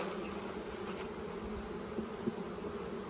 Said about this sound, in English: some of the bees on that will fly back